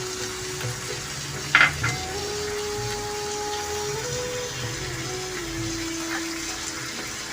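Potato and papaya being sautéed with fried prawns in a pan for a Bengali chechki, a steady low sizzle and stirring hiss throughout with a brief scrape of the spatula near the start, no talking.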